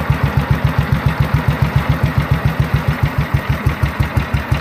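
A 1950 BSA B31 350cc single-cylinder motorcycle engine idles nearby with a steady, even low thumping beat, loud and alone with no talk.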